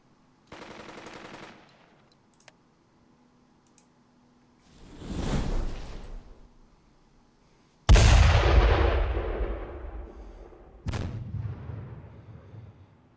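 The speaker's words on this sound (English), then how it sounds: "The US Army is going to use a lot of artillery, and here comes some of it." Artillery fire in the wartime strategy game Burden of Command: a short rattling burst, then several heavy booms rolling out one after another with long rumbling tails and quiet gaps between them.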